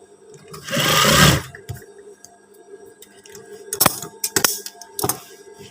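A sewing machine stitches trouser belt loops in one loud burst of about half a second, followed by quieter clicks and handling knocks of fabric and machine parts.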